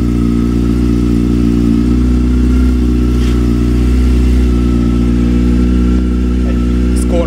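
A 2005 Honda CBF 600N motorcycle with its dB killer removed and a Scorpion exhaust rumbles loudly and close, deep and throaty, with a steady idle and slight revving swells throughout.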